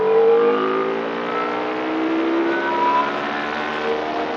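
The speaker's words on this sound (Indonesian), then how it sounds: "kita kasih gas tipis-tipis cuy ya" Yamaha R25 motorcycle with its regulator rectifier relocated behind the front fairing, the engine held at a smooth, loud, steady rev with light throttle, close by and with no talk.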